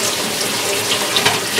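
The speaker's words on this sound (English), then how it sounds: "kind of turn my water on. I do like to just give them a nice rinse" A kitchen tap runs steadily to rinse freshly picked wild huckleberries, a loud continuous rush of water close by.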